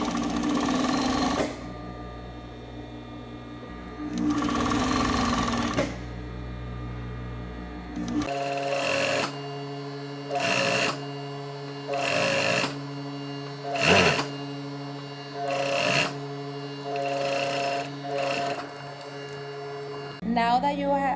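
Sewing machine running in bursts, stitching bias tape onto a waistband edge at a 1/4 seam allowance; a couple of long runs, then a quiet gap, then a rapid series of short start-stop stitching bursts over a steady mains hum.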